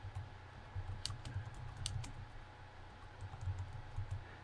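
A computer keyboard is typed on in a terminal while entering an update command, producing soft, quick clusters of close key clicks at an uneven rhythm.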